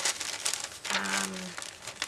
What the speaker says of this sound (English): So just a scrap of crepe paper